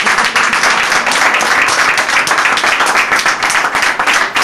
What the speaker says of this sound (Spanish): Un aplauso para el Cuarterano.